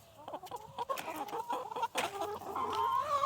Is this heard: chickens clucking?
yes